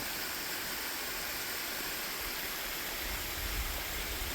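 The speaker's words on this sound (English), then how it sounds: "What an amazing waterfall." A steady, broad rush of falling water at Freedom Falls, constant and full, like a waterfall heard from nearby with no other sounds.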